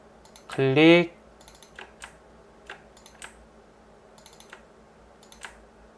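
Computer mouse clicks and keyboard key presses while drafting in Autodesk Inventor 2022, a sparse series of crisp, close taps spaced irregularly, following a brief spoken word at the start.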